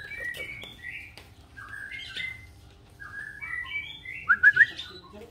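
A moulting white-rumped shama sings a sequence of clear, varied whistled phrases and chirps, close and bright, against a quiet background with a soft low hum.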